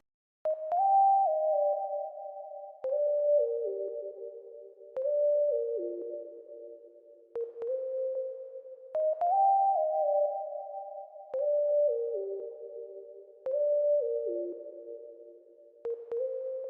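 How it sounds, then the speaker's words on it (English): A smooth, pure-toned synth lead made with a simple sine lead in the Purity VST plays a repeating stepwise melody, clean and clear, looping several times without accompaniment. "I used the simple sine lead."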